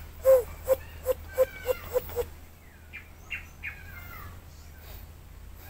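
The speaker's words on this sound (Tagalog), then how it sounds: "Daming ibon." Wild birds calling during a bird hunt: a quick series of about seven sharp, evenly spaced chirps, then several fainter sliding whistled calls, set against quiet outdoor background noise.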